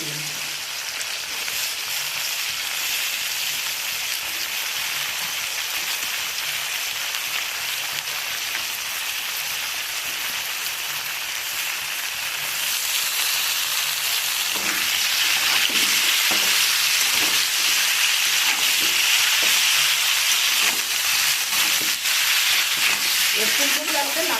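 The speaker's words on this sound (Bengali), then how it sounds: "এরপর আমি ফুলকপিগুলো দিয়ে দিলাম।" Cauliflower fries in a pan with a dense, continuous hiss and crackle that grows louder partway through, with occasional stirring sounds.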